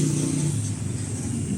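A car engine at an auto repair shop running and revving, a steady mid-pitched motor drone at moderate level with slight fluctuations and no talk.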